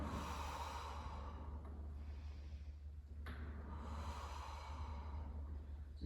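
Slow, steady breathing in and out during a gentle stretch on a Pilates reformer, two long soft breath cycles close to the mic over a constant low hum, with no talking.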